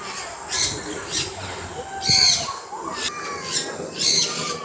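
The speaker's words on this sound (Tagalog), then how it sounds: "Daming ibon dito, oh." Birds at the Ninoy Aquino Parks and Wildlife Center in Quezon City give loud, harsh squawks in repeated bursts, close by, over a background of faint murmuring.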